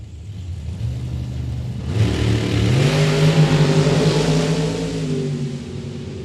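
A drag racing dragster roars down the strip at Mid Michigan Motorplex, a single engine building from a low rumble to a loud rising howl, then fading slightly as it pulls away.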